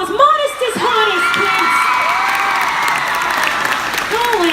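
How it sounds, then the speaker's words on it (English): A comedy tour crowd in Indianapolis bursts into loud applause with cheering, whoops and high excited shouts, sustained throughout. Voices call out over the clapping. "Give her a round of applause."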